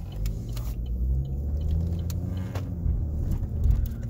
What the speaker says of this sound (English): I'm pulling up to the gas station now to try to get some air in these tires